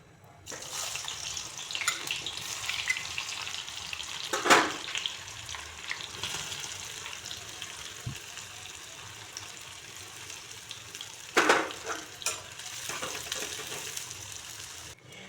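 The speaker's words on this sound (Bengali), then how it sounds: "আমি এখন পেঁয়াজের বেরেস্তাগুলো আগে ভেজে নিচ্ছি। সরিষার তেল দিয়েই ভাজবো বেরেস্তাগুলো।" Sliced onions sizzle steadily in mustard oil, a soft continuous frying hiss with a couple of brief louder crackling bursts, fairly quiet and close.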